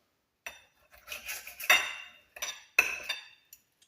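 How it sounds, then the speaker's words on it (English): A knife and fork clink and scrape against a plate while cutting a well-done air-fried ribeye steak, in a few close, bright bursts separated by short silences. "So I'm just gonna cut into this steak."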